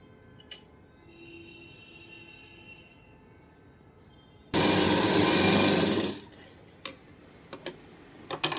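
A sewing machine stitches a lined blouse in one loud, steady burst of rapid whirring lasting under two seconds, framed by quiet stretches with scattered clicks and taps of fabric handling.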